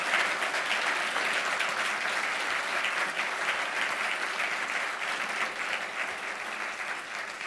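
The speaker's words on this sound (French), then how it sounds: "on pourrait se redonner une énergie en faisant une bonne main d'applaudissements pour nos deux candidats" A municipal debate audience applauds the two candidates in a broad, sustained wash of clapping that holds steady for several seconds, then tapers slightly at the end.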